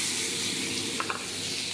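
A paste of green chilli, garlic, cumin, turmeric and salt hits a hot pan on a small gas stove for a gram-flour besan dish, giving a soft, steady sizzle with a few faint clicks.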